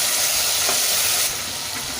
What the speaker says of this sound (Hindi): तमाम मसालों को फ्राई कर लें।